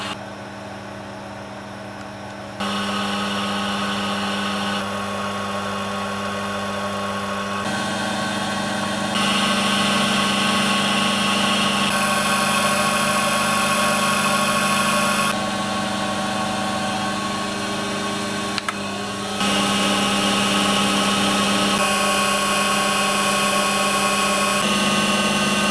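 A Boxford Duet CNC machine's spindle motor, converted to Mach3 control, runs steadily with a tonal whine that shifts in steps as it changes speed and reverses direction, loud and close with no talk.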